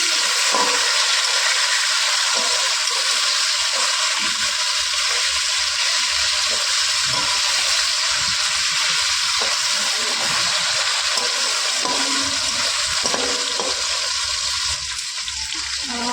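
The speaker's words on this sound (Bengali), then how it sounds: "এটা ভেজে নেবো ভাজা হয়ে গেলে তারপর ওটা উল্টে দেবো" Rohu fish head fries in hot oil with a loud, steady, close sizzle and fine spattering that runs unbroken, with a few faint clatters near the end.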